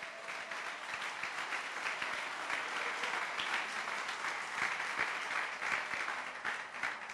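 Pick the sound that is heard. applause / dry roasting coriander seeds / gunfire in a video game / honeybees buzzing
applause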